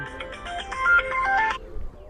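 A phone ringtone plays a short electronic melody of bright, clear tones for about a second and a half, then cuts off, leaving quiet background.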